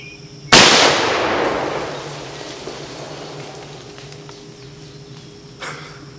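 A single sharp, very loud blast from a Traditions Vortek .50 caliber black powder muzzleloader pistol fired outdoors, its boom decaying into a long fading rumble, with a small faint knock later.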